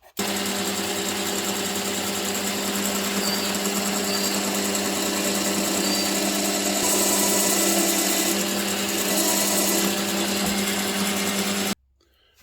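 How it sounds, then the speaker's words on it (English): A steady, continuous motorized whine of a drill grinding through a plastic Rubik's puzzle, loud and unbroken for most of the clip before cutting off abruptly near the end. "So we'll need to drill it out"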